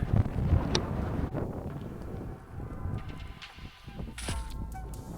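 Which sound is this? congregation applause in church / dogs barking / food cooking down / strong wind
strong wind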